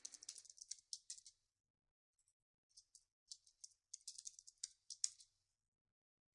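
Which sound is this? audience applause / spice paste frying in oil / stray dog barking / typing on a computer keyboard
typing on a computer keyboard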